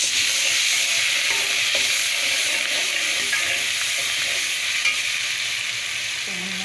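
Garlic-ginger paste frying with golden brown onions for a chicken and potato curry, a steady close sizzle and hiss with occasional stirring scrapes, no voices over it.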